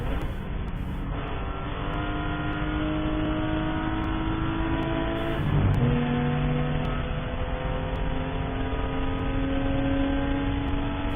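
A Porsche Boxster race car in an endurance race at Watkins Glen, its engine droning loud and close under throttle with harmonics climbing through the gears and a brief shift midway, no talking over it.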